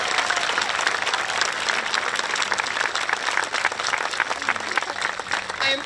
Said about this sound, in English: Please join me in giving a heartfelt round of applause for Dr. Capuano.